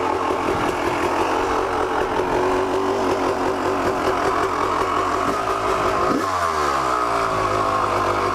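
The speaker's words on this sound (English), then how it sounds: "Man, this bike is just sounding mean." A Honda CR250 two-stroke dirt bike engine runs loud and steady throughout, with a revving surge and drop near the end; no one talks over it.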